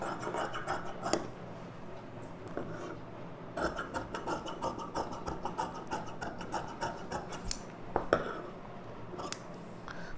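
Sharp scissors slice through lining blouse fabric in repeated quick snips and crunching cuts, close and fairly quiet, coming in bursts with brief pauses between strokes.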